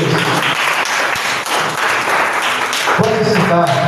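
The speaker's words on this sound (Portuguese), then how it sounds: "Uma salva de palmas para o Senhor Jesus." A church congregation breaks into loud, sustained applause for Jesus during a worship service, dense clapping close by with faint voices mixed in toward the end.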